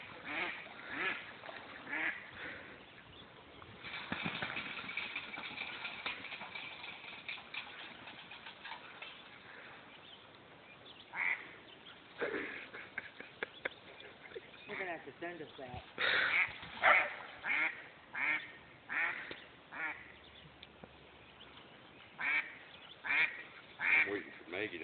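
Duck quacking in repeated short calls, louder and more regular toward the end, mixed with people talking and outdoor background noise.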